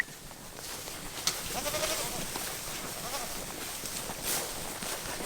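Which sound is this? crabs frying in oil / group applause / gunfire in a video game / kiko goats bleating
kiko goats bleating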